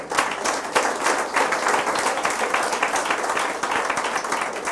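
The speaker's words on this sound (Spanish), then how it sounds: "De un aplauso al Señor" A church congregation applauding during a Spanish-language Easter-season sermon on the resurrection: dense, continuous clapping from many hands, bright and sustained throughout.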